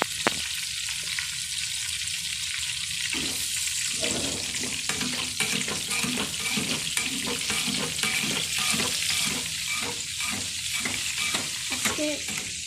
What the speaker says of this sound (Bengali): মাংস ছেঁচা মসলা দিয়া তারপর ভাজতেছে।